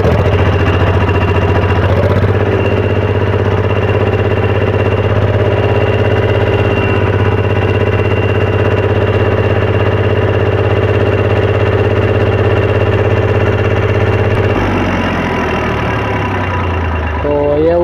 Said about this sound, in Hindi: अभी हम ट्रैक्टर को स्टार्ट कर लेते हैं